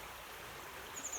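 The River Swale flows along a hiking route, a soft, steady wash of running water heard faintly from a distance with no voices.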